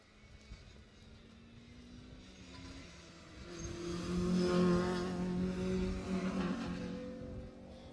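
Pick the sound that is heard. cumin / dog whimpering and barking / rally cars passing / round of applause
rally cars passing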